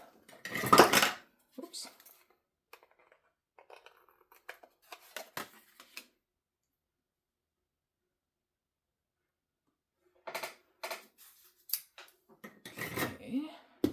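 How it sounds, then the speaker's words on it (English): Scissors snipping through card, a few sharp close cuts heard in short clusters separated by a long silence, with a brief spoken word in between. "And I will put it going off the card and cut that piece off."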